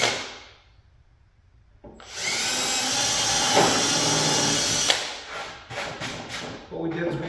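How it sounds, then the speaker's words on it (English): A power drill whirs into wood drilling pilot holes for a garage shelf, a loud steady grinding whine, then stops and briefly restarts in short bursts. "Now we're just drilling some pilot holes and we're going to screw it all together."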